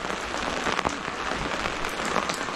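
Rain patters steadily on a covering over an outdoor copper hotpot dinner, a dense close hiss with scattered drop ticks, and no talk.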